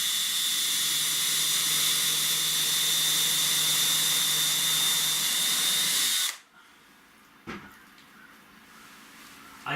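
Power drill pre-drilling holes in plywood, a steady high whining hiss for about six seconds that stops abruptly, then near quiet broken by a brief knock.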